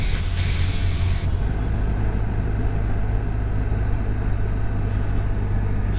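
A motorcycle engine with the throttle shut right down in third gear on a ride to Lynmouth, a steady low droning rumble with road and wind noise and no clear revving, continuous throughout.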